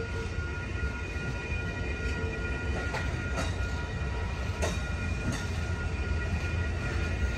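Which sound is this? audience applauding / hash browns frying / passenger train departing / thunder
passenger train departing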